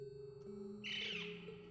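A bird calls in the video game The Legend of Heroes: Trails into Reverie, a short bright cry rising over steady background music tones, heard alone without talk.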